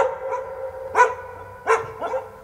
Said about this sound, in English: my dog barking when I'm trying to practice.